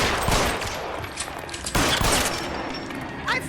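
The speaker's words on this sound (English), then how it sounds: "I shot that mofo in the back." Rapid bursts of gunfire from a video game, a dense volley early on and another sharp cluster near the middle, loud and close amid busy in-game noise and faint voices.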